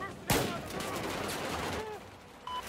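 Gunfire in the video game Battlefield 4, a sharp close shot followed by a rattling burst of fire and scattered distant shots, with faint voice chatter in the background.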